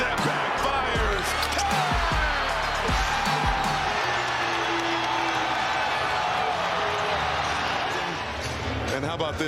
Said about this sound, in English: the crowd goes delirious